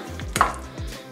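Eggs and Hass avocado, salted, being mixed together in a breakfast bowl, giving a couple of close clinks and scrapes of a utensil against the dish.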